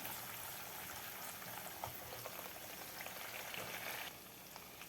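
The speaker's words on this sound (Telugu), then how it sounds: "చూడండి నెయ్యి వచ్చేసింది ఇంకా బాగా గోల్డెన్ కలర్లో కాసుకుందాం" Butter simmering in a pan as it clarifies into ghee, a soft continuous fizzing and bubbling sizzle, faint and steady with no voices, easing slightly near the end.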